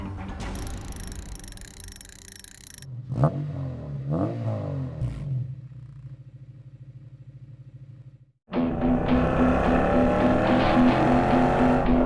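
A Monaro coupe with a V8 under the hood blips its throttle in a couple of quick rising revs, then drops to a lumpy idle before bursting into a loud, sustained roar; music plays at the start.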